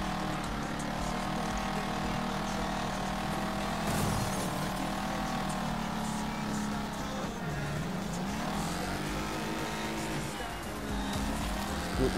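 A racing car engine in the Wreckfest video game drones steadily and loudly throughout, with rising and falling revs as the car accelerates and shifts, joined by a busy mix of other race cars and crash noise.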